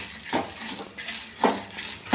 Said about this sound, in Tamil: காணத்தை கொட்டி அதை வறுக்கிறோம்